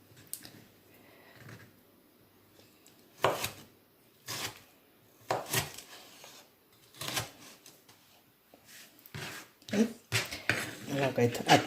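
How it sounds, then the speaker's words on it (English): Knife chopping and cubing a seeded vegetable on a cutting board for tabbouleh: irregular sharp thuds and clatters, sparse at first and then quicker and denser toward the end, close and fairly loud with no talking. "I'm going to slice it and cube it. But I'm going to remove the seeds."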